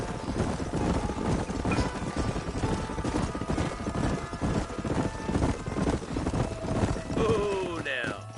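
Horse hooves clip-clop steadily in the Red Dead Redemption remaster, several horses moving over open ground with wind and ambient game noise, ending in a brief whinny-like tone.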